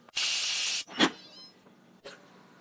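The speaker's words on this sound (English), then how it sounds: "now close the pressure cooker and cook for 45 to 50 minutes." A pressure cooker holding mutton curry lets out a sharp, loud burst of steam hiss, followed by a dull knock and a fainter, shorter hiss a moment later.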